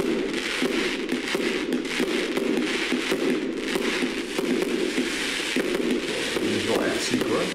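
A 100-shot firework cake lit all at once, giving a dense, unbroken barrage of rapid bangs and crackling that stays loud and close throughout, with faint voices underneath.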